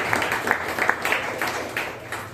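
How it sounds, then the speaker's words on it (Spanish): A church congregation claps during a sermon, a moderate burst of applause with some distinct sharper claps, somewhat distant and roomy, without talk over it. "denle un aplauso al Señor"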